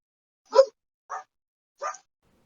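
Three short, separate barks from a dog, the first loudest, spaced about half a second apart against silence.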